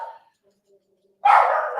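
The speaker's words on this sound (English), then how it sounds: "sorry about the dogs there." Dogs barking loudly and close by in one short burst after a near-silent gap, with a brief faint bark or voice at the start.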